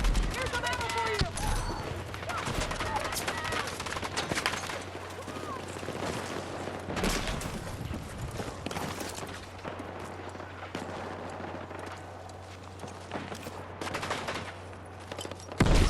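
Dense gunfire fills a Battlefield 6 match, rapid overlapping bursts and automatic fire with heavy booms, loud and nearly continuous, with voices shouting over the battle.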